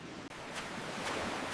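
Steady broadband wash of sea surf at a beach, a continuous rushing roar with soft swells every half second or so, carrying on alone without voices.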